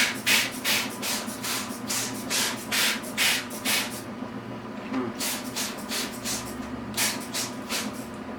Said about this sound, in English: And let's just spray until it's moist